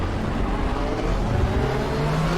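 Loud, steady engine drone of a 2021 DTM race car in the RaceRoom racing game, a continuous low roar with rising harmonic whine as it accelerates, no talking over it.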